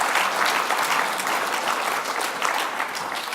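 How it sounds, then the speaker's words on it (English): Steady applause from a large crowd after a panel discussion, dense clapping filling the whole stretch without pause. "A round of applause for them, please."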